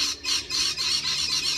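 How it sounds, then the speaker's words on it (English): Noisy birds squawking loudly outdoors near a car being worked on, a continuous harsh chorus of repeated shrill calls close by. "Noisy birds."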